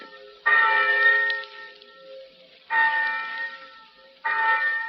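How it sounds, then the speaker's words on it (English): A college campus class bell rings in three clear, resonant strikes, each ringing out and fading before the next, with no one talking. "thousands of eager college freshmen will hear a bell like this, calling them to their first college class"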